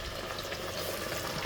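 Fish frying in hot grease gives a steady, dense crackling sizzle that holds at an even level the whole way through, with no voices.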